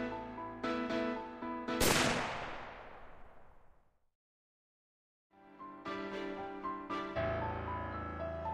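A single loud gunshot in a shooter video game crashes in over a steady music bed, its blast decaying over about two seconds before a brief silence and the music resuming.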